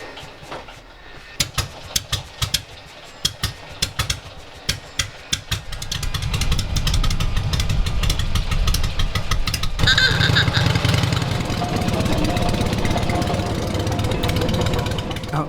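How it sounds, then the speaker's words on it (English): A Wickham trolley rail vehicle's engine coughs in sharp, spaced bursts during false starts, then catches and settles into a loud, steady, rattling run outdoors. "the Wickham trolley crew got the engine running and entertained visitors with a few runs"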